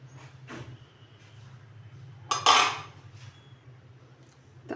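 A metal spoon scrapes and clanks once against a pot while scooping out steamed small fish cooked with mango and tomato. The sound is a short, bright clatter close by in a quiet kitchen, with a fainter knock just before.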